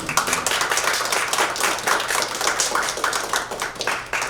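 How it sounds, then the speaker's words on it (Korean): Applause from the audience at a Korean press conference launching a civic action group, a steady mass of many hands clapping close by, filling the room continuously without talk. "참여자들 모두가 좀 협찬 박수로 우리 함태응 신부님 모셔주셨으면 고맙겠습니다."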